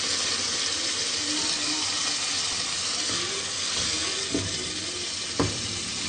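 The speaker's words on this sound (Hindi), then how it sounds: "अब हम इसमें 1 कप के करीब पानी डाल देंगे।" Water is poured into frying chicken korma, giving a steady, loud sizzle and bubbling with a couple of faint clinks from a utensil, no voices.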